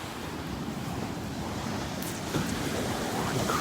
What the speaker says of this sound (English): And the rocks and the waves.